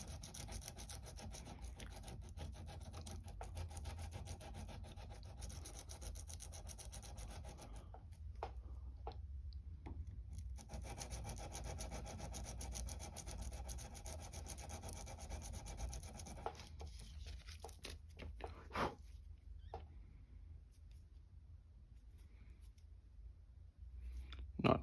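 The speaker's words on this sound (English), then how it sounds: "sand on this a little bit" A gunsmithing screwdriver tip is sanded with sandpaper while held against a small vise anvil, giving a faint, steady rasping rub that pauses briefly and resumes, ending with a few light taps and no talking.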